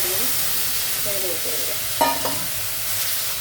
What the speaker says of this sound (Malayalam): എന്നിട്ട് നല്ലതുപോലെ ഇളക്കി കൊടുക്കാം.